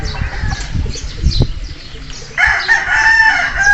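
A large rooster crows loudly and close by after some clucking and wing flapping, with a few faint background sounds and no clear speech over it.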